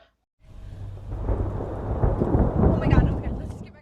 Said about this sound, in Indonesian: tampak langit sudah mau hujan dan petir juga sudah muncul